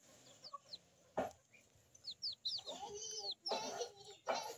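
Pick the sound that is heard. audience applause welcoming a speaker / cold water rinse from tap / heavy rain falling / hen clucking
hen clucking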